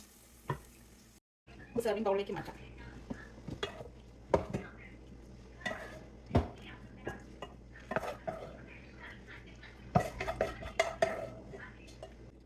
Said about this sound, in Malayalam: നമുക്ക് ഉടനെ തന്നെ ഇതൊരു സർവിംഗ് ബൗളിലേക്ക് മാറ്റാം